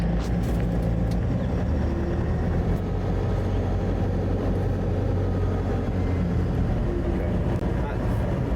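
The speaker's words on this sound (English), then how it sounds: "Let's drive to our job site." CMAR R 2500 cleaning vehicle on the road to a job site, a steady low engine drone and road rumble heard from inside the cab, with a voice speaking over it.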